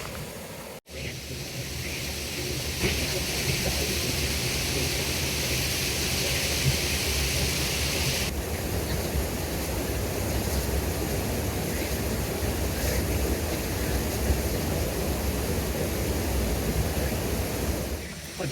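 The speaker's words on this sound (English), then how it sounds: "I did say I wasn't going to shoot this waterfall again." A waterfall in Weardale gives off a broad, steady rush of falling water, loud and continuous after a brief cut near the start, with no voices over it.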